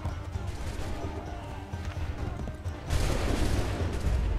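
Musket volleys ring out in the Assassin's Creed 3 video game, with continuous battlefield gunfire that turns noticeably louder and denser partway through, no voices on top.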